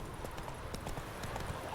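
A horse gallops in Witcher 3, its hooves making a quick, steady clip-clop rhythm with game sound underneath, faint and brief.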